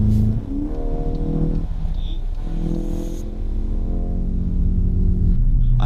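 A VW Golf 8 GTI in sport mode drives on a highway, its engine giving a steady, close, humming drone with shifting tones and road rumble, while people talk over it.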